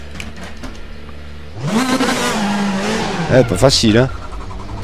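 A turbocharged race car in the Race Room Racing game revs and shifts, engine pitch sweeping up and down, followed by several quick fluttering blow-off valve chirps near the end, with someone talking briefly over it.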